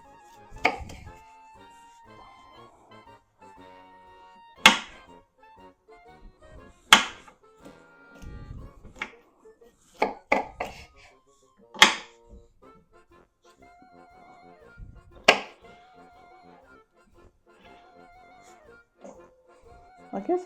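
A knife trims broccoli during processing with scattered sharp chops and thuds against a cutting surface, spaced irregularly over a quiet room with faint background hum.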